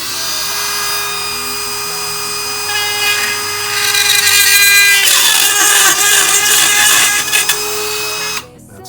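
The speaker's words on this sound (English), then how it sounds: "I'll probably drill in from the side here" A power drill bores into the plastic housing of Eachine EV800D FPV goggles, a loud close whine that steadies, rises in pitch and intensity midway, then cuts off abruptly near the end.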